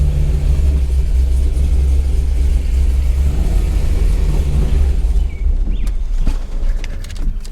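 A 2003 Corvette C5 Z06 with a repaired ABS module and steering column moves under its own power. A loud, steady engine rumble sounds close by, with a few light clunks and rattles near the end.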